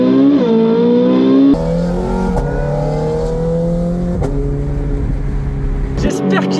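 A Ferrari 458 Speciale fitted with an IPE exhaust revs loudly up close, its deep growl swelling and dipping through several sharp throttle blips, with a brief crackling burst at the end.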